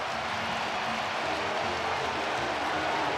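A baseball stadium crowd roars in a steady, broad wash of cheering after a base hit during a World Series Game 7 between the Dodgers and Blue Jays in Toronto, loud and sustained without any distinct voices.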